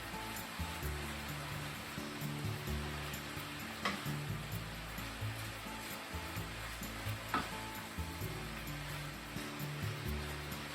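Pork and cabbage cook in a pan with a continuous, faint, hissing sizzle, steady throughout with occasional soft clicks of stirring, no voices.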